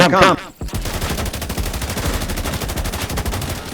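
Rapid automatic gunfire in The Division 2, a loud, dense burst of shots that runs nearly continuously after a short opening sound.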